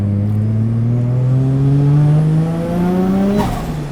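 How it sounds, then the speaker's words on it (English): A Toyota Chaser with a 1JZ engine revs up steadily with rising pitch, loud and close, then the throttle lifts and the note drops away. "The 1J sounds pretty good, hey?"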